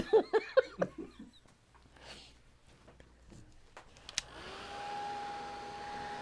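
Brief talk and laughter fade out, then a hair dryer switches on and blows steadily up close to dry paint, running as a constant whirring hum to the end.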